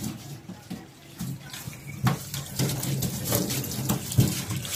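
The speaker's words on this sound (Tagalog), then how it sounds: "Naliliguan si Penguin." Water splashes and pours as a pet is bathed, in irregular bursts and sloshes close to the listener that grow busier toward the end.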